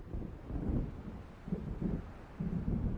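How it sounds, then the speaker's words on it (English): Thunder of an approaching storm in the video game Alan Wake: faint, low rolling rumbles that swell and fade in several soft waves, with no talking. "It seems there's a storm coming."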